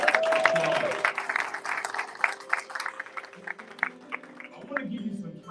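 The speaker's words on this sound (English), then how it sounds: "Let's give that a round of applause." An audience at a university partnership announcement breaks into applause, a crackling patter of clapping that rises and thins over several seconds while a speaker's voice carries over it.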